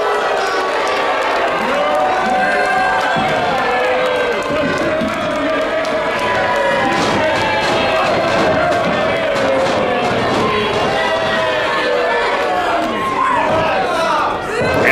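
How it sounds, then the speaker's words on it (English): A pro wrestling crowd roars and jeers for a sustained stretch, a loud, dense mass of voices with rising and falling shouts close around the ring. "This crowd is letting him have it with boos everywhere."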